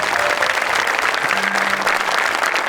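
Audience applause at a Marathi comedy stage show: dense, steady clapping from a crowd that runs without a break for the whole stretch, with no voices standing out.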